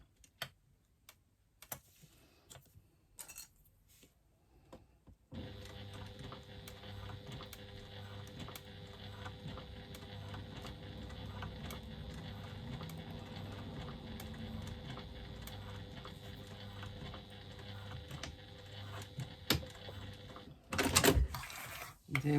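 A sewing machine stitches faux fabric for a clutch applique after some quiet handling sounds, running in a steady, close mechanical whir with rapid ticking for about fifteen seconds before stopping.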